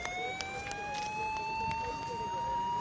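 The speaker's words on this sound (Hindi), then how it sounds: "पुलिस वाले पहुंचे और चारों तरफ सायरन की आवाज गूंजनी शुरू हो गई" Police siren wailing amid an unrest scene where tyres are burned on a road, a rising tone sustained throughout, somewhat distant, with a voice talking over it and scattered thuds and clatter.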